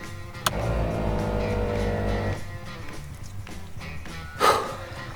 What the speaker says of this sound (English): I'm gonna flip the switch, and if everything's good, the compressor will fill up the airline and turn off.